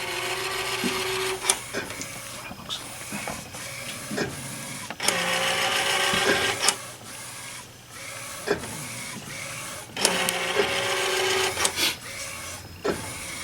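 A DTG printer runs through a tee shirt print pass, its print head carriage whirring back and forth in repeated sweeps with sharp clicks and stops between passes, fairly close and with no talking.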